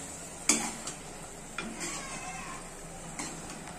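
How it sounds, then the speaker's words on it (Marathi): Spoon stirring a thickening sauce for chicken chilli in a pan, a few soft scraping knocks spaced a second apart over a low steady sizzle. "मस्तपैकी ढवळून घ्यायचं आहे"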